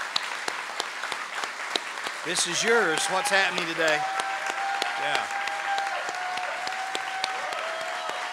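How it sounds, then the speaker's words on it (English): Applause at a college commencement ceremony, a continuous crackling roar of many hands from a large crowd, with people talking and calling out over it. "I think it would be totally fitting if we gave them another big hand of applause."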